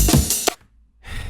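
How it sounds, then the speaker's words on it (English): A sampled drum break with a parallel compression layer added, playing punchy full-bodied hits in a short burst, cutting to near silence, then resuming loudly with no voices. "when I add in this parallel layer here, it sounds like this"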